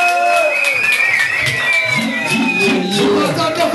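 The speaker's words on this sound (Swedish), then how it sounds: "så jag vill ha en applåd för dem" Audience applause and cheering for live performers at a music show, a loud continuous crowd wash with whoops and shouts layered over music, steady throughout.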